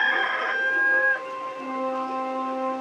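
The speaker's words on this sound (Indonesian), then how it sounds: "ketika itu berkokoklah ayam" A rooster crows close and loud in one long, clear call that dips and then trails off into a lower held tone. No other sound is heard around it.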